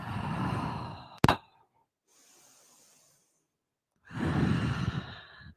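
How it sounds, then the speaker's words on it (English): Deep group exhales in a vinyasa power yoga class, two long, loud breathy sighs separated by a quiet pause with a brief soft inhale, close and without talk. "We're going to breathe all together."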